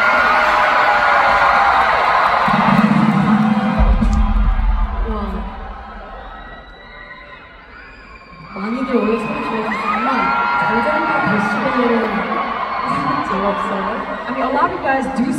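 A large arena crowd at a concert in Newark's Prudential Center screams and cheers loudly, the roar swelling, dipping briefly, then surging again, with talk mixed in.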